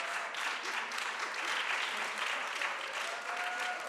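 A debate audience claps and cheers in a steady, even wash of applause that stays at moderate strength for a few seconds, heard from a distance.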